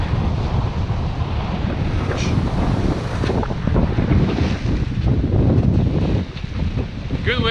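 Strong 18 to 20 knot wind at sea aboard a reefed sailing boat between the Seychelles and the Maldives, a steady loud roar buffeting the microphone with waves washing beneath.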